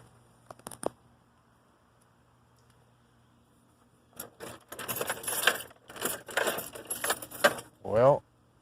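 Keys jangle and clink in bursts, fairly close, after a quiet stretch with a faint background hum, ending in a brief louder rattle; the keys belong to a Chevrolet 2500 HD pickup with a 6.0 V8.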